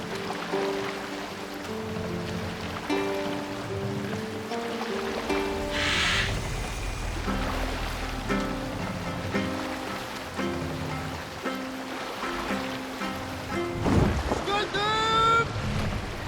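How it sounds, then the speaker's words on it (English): A sailing boat glides across open water in Assassin's Creed Valhalla, with soft wind and water wash lying beneath steady music that fills the whole stretch. A voice speaks briefly over it. "We can use the sail here, Eivor."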